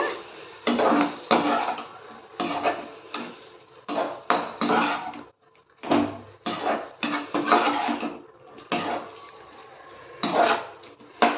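A spoon stirs green chilli tamarind curry in a pot on a stove at medium heat, giving repeated clinks and scrapes in irregular bursts separated by short pauses, close and fairly loud, with no talking.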